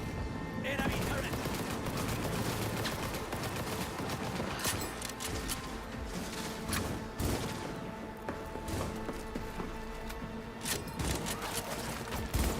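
Enemy turret firing in Cyberpunk 2077, a steady stream of rapid gunfire with sharp bursts and impacts, loud and continuous over game noise.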